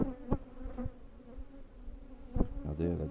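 Honeybees buzz around a hive frame, some carrying orange pollen; a soft, continuous hum with a few louder passes close by and brief handling knocks.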